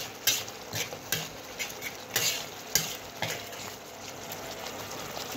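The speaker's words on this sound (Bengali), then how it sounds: "জিরের গুঁড়োটিকেও আমরা মশলার সঙ্গে সুন্দরভাবে মিশিয়ে নিচ্ছি" Cumin powder being stirred into a chana masala spice mix in a pan, soft sizzling under repeated sharp spoon scrapes and taps at an uneven rhythm, close but fairly quiet, with no talking.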